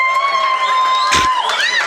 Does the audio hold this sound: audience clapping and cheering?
yes